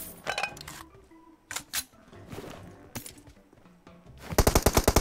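Automatic gunfire in a shooting video game, with scattered bursts of shots early on and a loud, rapid rattling volley near the end, sounding close and dominant.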